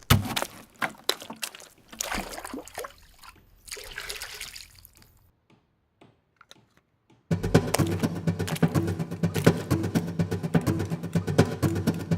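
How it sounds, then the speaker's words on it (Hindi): Water is poured into a container in uneven splashing bursts, stops for a short quiet gap, then resumes as a louder, steady running pour. "जरा इसमें पानी डालना"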